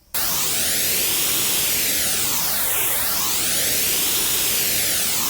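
White noise runs through a phaser modulation device in Ableton Live, a loud continuous hiss with sweeping, whooshing notches that rise and fall steadily throughout.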